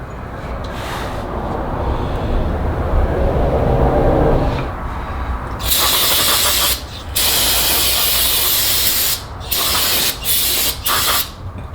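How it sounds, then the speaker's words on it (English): Brake cleaner sprayed onto the rotor of an '04 GTO during a brake upgrade, heard as loud, broadband hissing bursts, several long blasts broken by short pauses after a stretch of quieter workshop noise. "make sure you spray the hell out of your rotor surface with brake cleaner"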